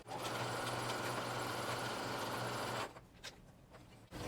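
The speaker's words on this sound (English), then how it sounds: "Then I'm just going to continue all the way down the fabric until the end where I'm going to back stitch again." Close, loud sewing machine hum as it stitches steadily down a length of fabric for nearly three seconds, then stops, leaving faint handling sounds.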